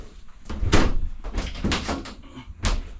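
A regular bathroom door in an RV bumps and thuds several times close by, as it is swung and latched, with no talking over it.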